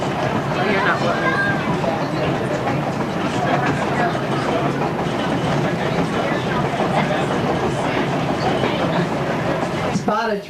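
A steady, loud rumble of a train rolling along rails, with rhythmic clattering and muffled voices underneath.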